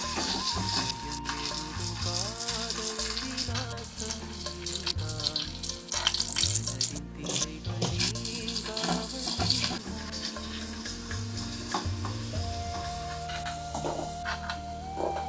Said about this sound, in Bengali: ফুলকপি আলু নুন হলুদ দিয়ে একে একে ভেজে তুলব